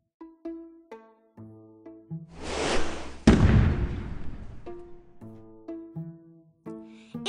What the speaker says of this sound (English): the city is celebrating with fireworks